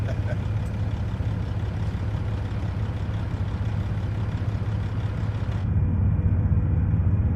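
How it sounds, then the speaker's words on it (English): A truck engine in American Truck Simulator runs with a steady low rumble, swelling slightly louder toward the end, with no voices over it. "I love that engine startup routine"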